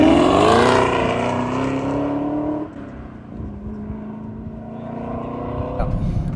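A Chevrolet Camaro ZL1's engine roars loudly as the car pulls away, its pitch climbing through the revs before easing off into a lower, steady drone.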